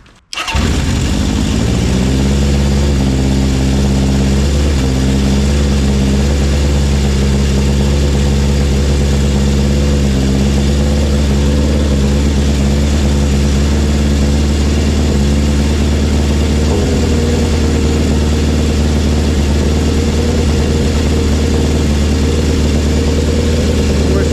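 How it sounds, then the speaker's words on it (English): A Honda CB750 cafe racer motorcycle cranks and fires, then settles into a loud, steady, close idle with a low throbbing rumble that continues for the rest of the clip. "we're going to start the bike up"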